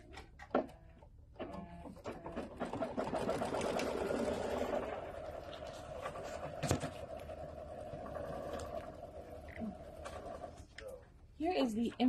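A sewing machine stitches steadily, tacking popsicle-print fabric down on a mini quilt, with a run of mechanical whirring for several seconds, some bird cooing nearby and talk before and after.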